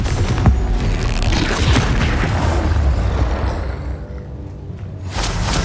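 A fire spell explodes in Hogwarts Legacy during a fight with a troll near a hamlet, giving a loud booming blast with rumbling, crackling debris that sustains for several seconds before tapering off.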